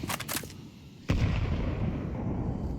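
Gunfire in a Counter-Strike match between Nemiga and M80 at the BLAST Austin Major: a burst of quick shots, then one loud close crack that trails into a sustained rumble and noisy game ambience.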